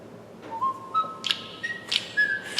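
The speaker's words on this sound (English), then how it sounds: "which is the theme song to the Andy Griffith Show" Someone whistles the Andy Griffith Show theme, a few bright, thin melodic notes rising and sliding over a faint hissy background.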